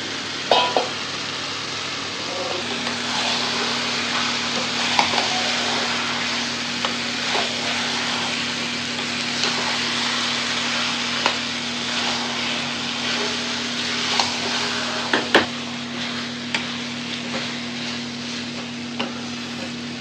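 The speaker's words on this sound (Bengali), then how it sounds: "গ্যাসের ফ্লেমটা একটু বাড়িয়ে কিছুক্ষণ ভেজে নেব" Chicken pieces with turmeric, chili powder and fried spices sizzle steadily in an oil-filled pan over a gas flame, a continuous loud hiss broken by occasional clinks and scrapes of stirring.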